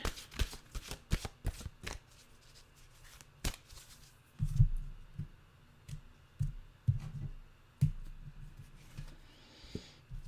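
A deck of mantra cards is shuffled up close in a quiet room, a run of crisp riffling clicks and soft slaps that comes in several bursts over about ten seconds, with no voices.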